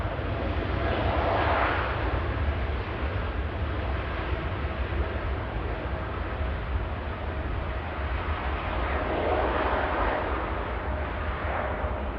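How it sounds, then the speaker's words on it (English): A Boeing 787 Dreamliner jet departing Manchester Airport for Cancun, a loud, broad, continuous engine roar that swells and fades slightly over several seconds, with no talk. "First Dreamliner out to Cancun."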